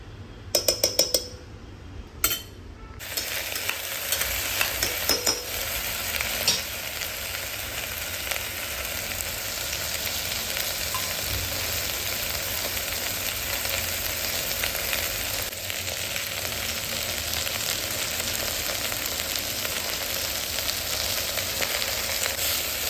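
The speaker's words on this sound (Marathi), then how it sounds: "तर आता याच्यामध्ये सुरुवातीला आपल्याला तूप टाकायचं आहे" Homemade ghee sizzles and fries steadily in a pressure cooker, a continuous bright crackle that holds close and fairly loud after a few sharp clinks at the start, with no voices over it.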